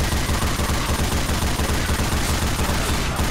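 Rapid automatic fire from a mounted gun in the Left 4 Dead 2 video game, a dense, continuous roar of shots that stays loud and steady for the whole stretch without a pause.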